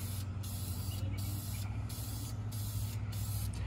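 Red paint is sprayed onto Chevy 350 engine parts for a 1959 Chevy Apache build, giving a loud, continuous close-up hiss broken by a few very short pauses.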